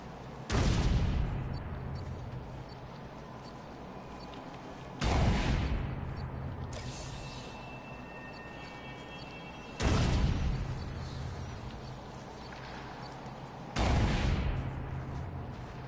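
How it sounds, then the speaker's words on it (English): Four booming detonations of explosive charges in Batman: Return to Arkham City, evenly spaced about four to five seconds apart. Each blast starts sharply and leaves a sustained rumble under the next one, with no talk over them. "I detonated the wrong one."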